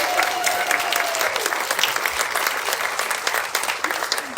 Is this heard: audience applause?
yes